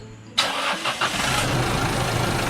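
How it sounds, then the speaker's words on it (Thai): An Isuzu D-Max 1.9 Blue Power pickup engine cranks and catches after an intake cleaning, then settles into a steady, loud idle that continues to the end. "เดี๋ยวลองสตาร์ทรถได้เลย"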